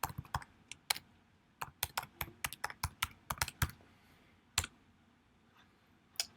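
An email address is typed on a computer keyboard: quiet, close clicks of keys in irregular quick bursts with short pauses, alone in a still room.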